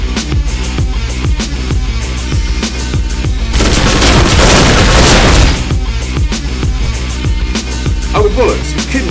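Rapid automatic gunfire rattles through a 30-round magazine in the indie shooter Wake The Dragon, a loud, dense and continuous volley of close shots with booming impacts, swelling briefly in the middle.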